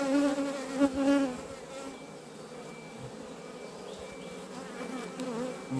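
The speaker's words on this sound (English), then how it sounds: "You can see there is loads of bees in a super." A dense mass of honeybees buzzes inside a beehive super opened for inspection, a steady, close, droning hum that swells slightly at the start and carries on without talk.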